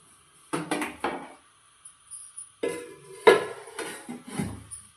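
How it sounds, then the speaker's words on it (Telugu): A heavy lid set onto a hot pot for baking vegetable pizza on the stovetop, with a few close metallic clanks and scrapes in separate bursts and quiet gaps between. "పైనుంచి బరువు ఉన్న మూత అయితే పెట్టుకోవాలి."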